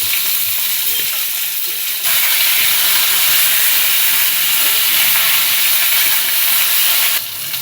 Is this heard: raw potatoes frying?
yes